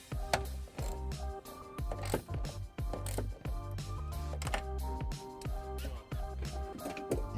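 A ratchet tightening a hex nut onto a ring connector during trailer wiring installation on a 2019 Kia Optima, with a 10mm socket; rapid close clicking pawl strokes in repeated bursts, steady and fairly quiet.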